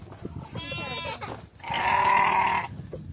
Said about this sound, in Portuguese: Ovelha sempre berrando.